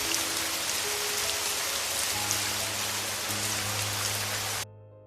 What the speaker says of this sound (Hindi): बारिश जैसी ही खत्म होती है